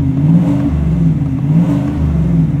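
Louder, deeper burble of a 2024 Chevrolet Silverado 1500 High Country 6.2L V8 with active exhaust in sport mode, a continuous throaty idle with slight pulsing surges, close and unaccompanied by talk.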